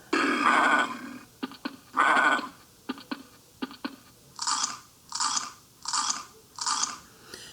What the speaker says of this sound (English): now we've got the lion eating the lamb